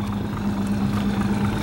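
A 1997 Proline 21 cuddy boat's 150 outboard engine runs at a steady, quiet idle, a continuous low hum with an even tone held throughout, close by and alone.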